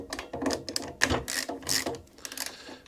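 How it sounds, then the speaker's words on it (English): A 10 mm socket bar undoing the retaining bolts on a Qualcast 35S cylinder mower, giving quick close ratcheting clicks and metallic ticks in short irregular bursts. "we're going to undo these retaining bolts"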